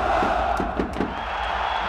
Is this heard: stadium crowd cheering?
yes